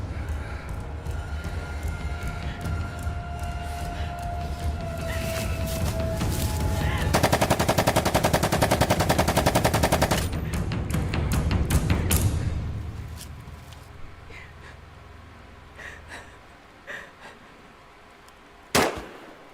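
Gunfire from a short film: a dense burst of rapid shots with sharp cracks and echoing bangs, loud and sustained for several seconds, then a few scattered single shots and a final sharp report after a quieter stretch.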